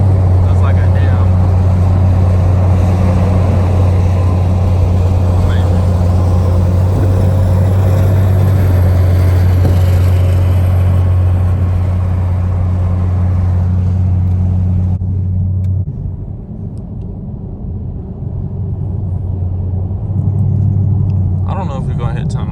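Loud, steady low rumble of a straight-piped Chevrolet Camaro SS V8 idling and droning in a tunnel at night, with a brief dip partway through before the heavy exhaust drone returns.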